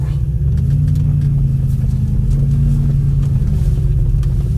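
An Audi RS6, just repaired, drives slowly around a parking lot, its engine giving a steady, close, low rumbling drone that holds an even level throughout.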